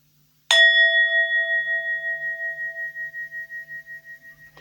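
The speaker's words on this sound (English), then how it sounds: "So we'll just ding the bell and we'll get started." A single bell struck once, a bright clear ding that rings on with a slowly fading, gently pulsing tone in an otherwise quiet room.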